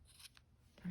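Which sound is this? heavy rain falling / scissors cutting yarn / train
scissors cutting yarn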